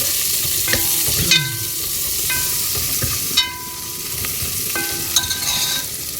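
Green chilies sizzle steadily in hot oil in a pan while a utensil stirs them, with several clinks of metal against the pan over the continuous frying.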